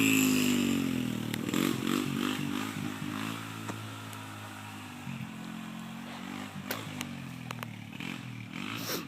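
A dirt bike in first gear revs and rides close by, its engine pitch climbing and falling in repeated bursts, with clattering and scraping sounds mixed in.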